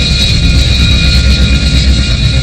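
A military jet flies low and fast, giving a loud, continuous, roaring engine rush that holds steady throughout with no voices.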